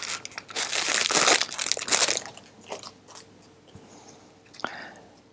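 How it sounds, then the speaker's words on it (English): Plastic packaging of a Kruse Vetflex elastic veterinary bandage being torn open, a dense crinkling, ripping burst for about two seconds, then quieter rustles and a sharp crackle near the end. "You grab the packing and you simply tear the packaging."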